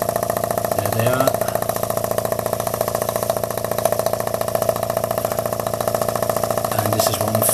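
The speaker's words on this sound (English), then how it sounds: "this is one fine running engine" A small uniflow-type model steam engine with a Stuart valve and two drain cocks on the cylinder runs steadily nearby, giving a continuous, even mechanical chuffing and whirring hum with brief clanks near the start and end.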